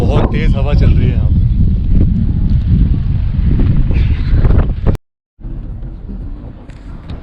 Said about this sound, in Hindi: और बहुत तेज हवा चल रही है यहाँ पे।